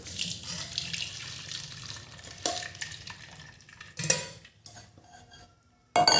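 Swollen boiled soybean granules being strained in a kitchen, with water pouring and splashing, metal utensils clinking against a pot and bursts of running water at a sink, close and fairly loud throughout.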